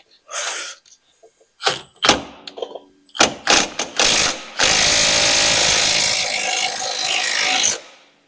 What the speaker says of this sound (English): Pull down the wrench.